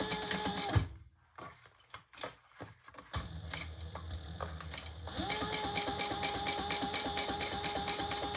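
A sewing machine stitching the seam of an unlined all-leather tote, with a few short, separate clicks and bursts, then a steady, close, mechanical whirring run of stitching that lasts to the end, with no talking.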